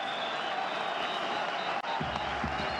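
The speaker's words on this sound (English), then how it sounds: "Well-deserved round of applause for the home team from the home fans." Home fans applaud at half-time of a CAF Champions League semi-final football match in Berkane, a steady wash of clapping and crowd noise filling the stadium without break.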